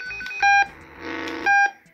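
A NOYAFA cable tester in digital mode gives two loud, clean electronic beeps, separated by a softer buzzing tone between them.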